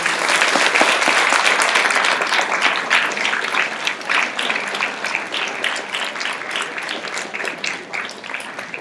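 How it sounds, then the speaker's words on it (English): Loud, sustained standing ovation from a graduation audience at a 2017 high school ceremony, many hands clapping in a dense roar that gradually thins and softens toward the end. "give them a round of applause"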